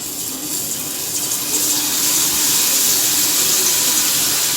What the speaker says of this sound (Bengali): এইবার আমি এই ছানছাটার ওপরে এইভাবে ঢেলে দেবো